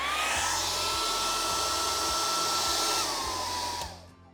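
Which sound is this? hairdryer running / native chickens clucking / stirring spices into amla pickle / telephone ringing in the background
hairdryer running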